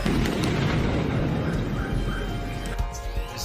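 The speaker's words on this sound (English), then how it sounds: "most of the effects they used were practical, including this big explosion" A big practical pyrotechnic explosion for a documentary about a music group roars as a loud, sustained low rumble that fills the whole clip, fading slightly toward the end with a few later thumps.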